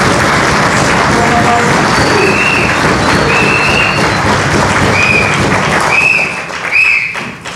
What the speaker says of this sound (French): Vous avez déjà applaudi